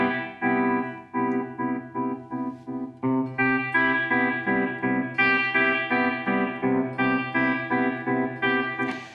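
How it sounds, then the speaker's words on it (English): Electric guitar strums chords through the tremolo effect of a Mooer Black Truck pedal, set at full range. The volume pulses steadily and rhythmically, with chord changes along the way, alone and fairly quiet. "Tremolo sounds like this."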